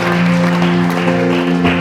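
A church congregation at an Indonesian revival meeting cheers and claps, a loud sustained roar of applause mixed with a held tonal drone from music or voices.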